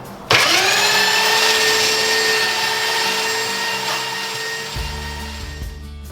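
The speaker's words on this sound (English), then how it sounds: "and then I'll finish with my rotary with a 120" A rotary sander fitted with 120-grit paper grinds across the wood planks of a dresser top, a loud steady whine with a high tonal hum that starts abruptly and runs continuously, with no voices over it.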